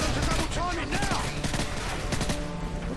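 Rapid gunfire in the video game Call of Duty: Modern Warfare 3, loud bursts of shots in quick succession over game effects, with a voice talking over the action.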